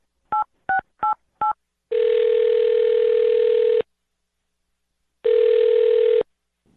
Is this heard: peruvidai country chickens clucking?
no